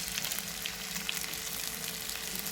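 Village fish fries in a pan with a steady, dense sizzle of hot oil, continuous and close throughout with no pauses.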